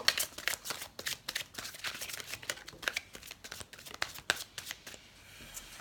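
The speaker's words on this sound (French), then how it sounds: "Alors on va tirer une carte pour le troisième décan." Tarot cards shuffled and drawn by hand: a rapid flurry of close, crisp card slaps and riffles that continues steadily for several seconds, then tapers off.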